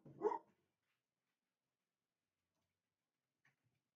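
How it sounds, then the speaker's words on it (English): A single short dog bark sounds at the start, followed by near silence and a faint, brief sound a few seconds later. "My dog will not shut up."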